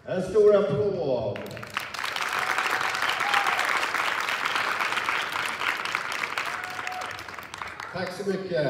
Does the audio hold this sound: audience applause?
yes